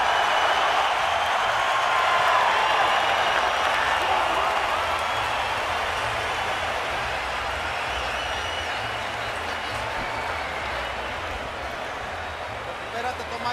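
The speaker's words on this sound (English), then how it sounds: "Most combative round of the fight so far, and the crowd will respond." The arena crowd at the Canelo versus Golovkin boxing match cheers and applauds in a sustained, broad roar that slowly eases off, with a commentator's voice faintly underneath.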